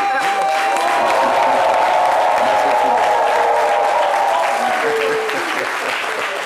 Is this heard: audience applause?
yes